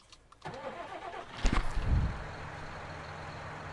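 A tractor engine in the video game Farming Simulator 19 starts and revs up, rumbling loudly for a moment before settling into a steady idle hum.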